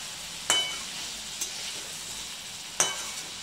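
Dried shrimp (karandi) with chili powder, turmeric and salt mixed in a pan for a potato bhaji, a soft low sizzle under three sharp scraping clacks of the spoon against the pan; nobody speaks.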